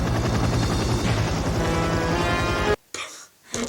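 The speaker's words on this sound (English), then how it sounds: "The helicopter comes to check on them" A helicopter flying over a resort, its rotor producing a loud rapid thudding chop that is steady and close for most of the stretch, then cut off abruptly, followed by brief quieter fragments.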